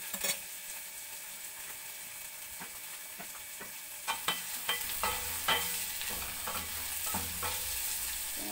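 Pork fries in a pan with a soft steady sizzle while a utensil stirs and scrapes it, leaving sharp clatters that grow denser toward the end.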